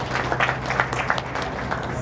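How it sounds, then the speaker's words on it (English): An audience at a tourism conference applauds the keynote speakers, a dense, steady wash of many hands clapping at moderate distance. "Can we please give a round of applause to our keynote speakers?"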